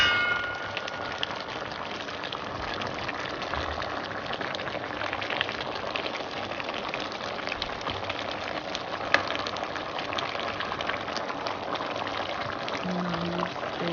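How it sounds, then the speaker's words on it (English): A pot of yam porridge with fish boiling steadily, a continuous bubbling and simmering with occasional small pops, no voices. "You can see it's boiling. Like you just listen to the sound."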